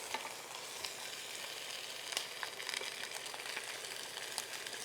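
Pieces of meat for a Christmas pig's-feet meatball stew sizzle and fry steadily in a pan while being turned, with scattered crackles and spits throughout and no talk.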